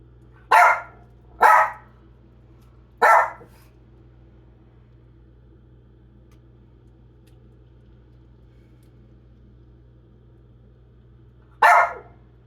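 A dog barks in a home kitchen where a whole chicken is being broken down: three sharp, loud barks in quick succession, a long quiet stretch, then one more bark near the end.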